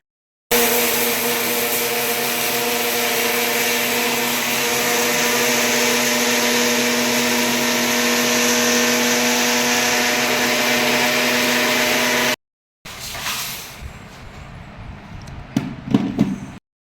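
An electric mixer grinder whirs loudly and steadily for about twelve seconds while grinding roasted spices into idli podi, then cuts out, leaving rattling and knocking from the jar and lid.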